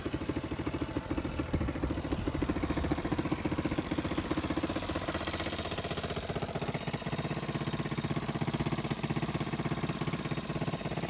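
A 125cc four-wheeler ATV engine running at a steady idle, close and continuous with an even mechanical chug throughout, no voices.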